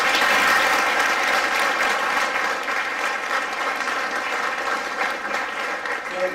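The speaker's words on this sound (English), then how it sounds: "giving a big round of applause, please" Sustained audience applause fills a room at an HR round table event in Pune, a dense steady clapping that starts full and eases off slightly over several seconds, with no talk.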